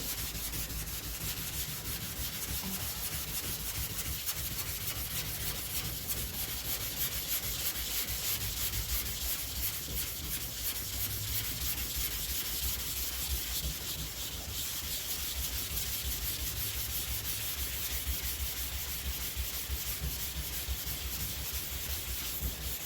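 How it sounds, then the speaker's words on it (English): A 5-inch hard block is rubbed over guide coat on the body of a 1969 Dodge Dart, making a continuous, even, close sanding rasp that runs the whole time with no talking. "5-inch hard block, and we'll work in from here up to where the end of where we sanded, sort of blend that in."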